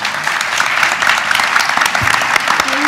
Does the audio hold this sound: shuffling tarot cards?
no